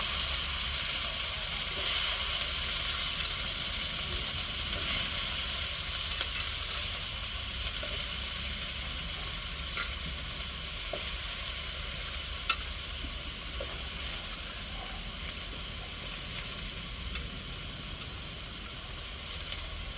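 Garlic frying in a pan with cabbage in a home kitchen, giving a continuous dense sizzle and hiss that holds steady throughout, with a few faint clicks of stirring.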